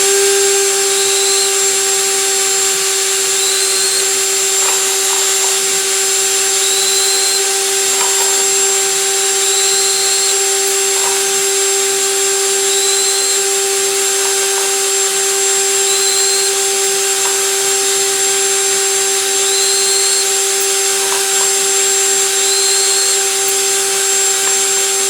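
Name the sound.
power drill deburring rifle brass cases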